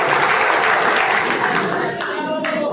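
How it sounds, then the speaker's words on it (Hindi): A dense, continuous wash of applause fills the hall as a crowd claps loudly for elderly powerloom workers at a labourers' meeting in Malegaon, holding steady throughout with a faint murmur of voices mixed in. "दोस्तों, इन बुजुर्गों के लिए एक मरतबा तालियां बजा दीजिए"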